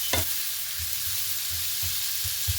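Chicken kondattam fries in a pan on a low flame, a continuous close sizzle with soft rhythmic thumps and scrapes from stirring at a steady pace.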